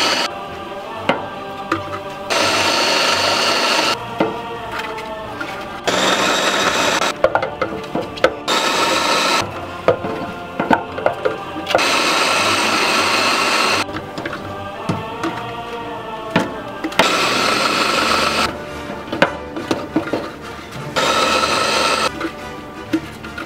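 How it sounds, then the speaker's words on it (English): A food processor runs in repeated loud bursts, whirring for a few seconds, pausing, then starting again while chopping vegetables for a spaghetti sauce, with knocks and rattles between the pulses. "It's the food processors when you start something like that."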